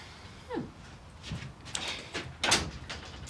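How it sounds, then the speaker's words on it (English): A door in a domestic drama scene is pushed shut with a few soft knocks and a firmer thud near the end, heard fairly close against a quiet room. "Close the door."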